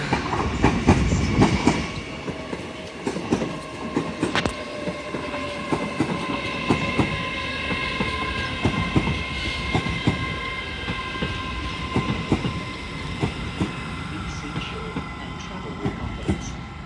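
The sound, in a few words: Class 801 trains passing Doncaster station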